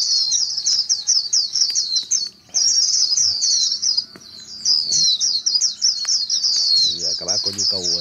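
Many Japanese white-eyes chirp at a bird-trapping site, a dense run of high, rapid twittering close by that continues almost unbroken, with someone talking briefly near the end.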